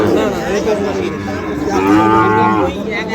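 Sahiwal cattle lowing at Ambari cattle market, a long, loud, close moo filling most of the moment over a low market hum, with only faint voices behind.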